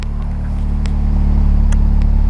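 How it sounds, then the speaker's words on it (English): A 2016 Honda Civic Type R with a 2.0 VTEC Turbo engine idling, a steady low hum and rumble that builds slightly, heard close from inside the car with no talk. "it's a nice little sound."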